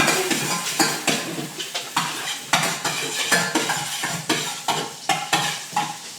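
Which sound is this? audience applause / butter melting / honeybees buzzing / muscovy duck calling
butter melting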